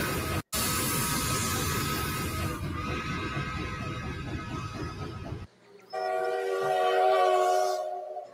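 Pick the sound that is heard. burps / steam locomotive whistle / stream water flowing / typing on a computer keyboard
steam locomotive whistle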